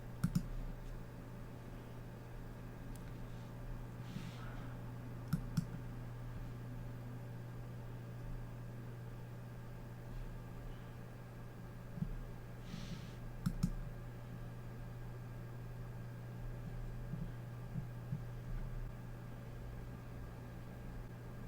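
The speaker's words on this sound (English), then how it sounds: "Clicking through the new presets," Quiet, sparse mouse clicks come from someone clicking through presets in the Nik Collection photo editing software, a handful of isolated clicks spaced several seconds apart over a low steady hum.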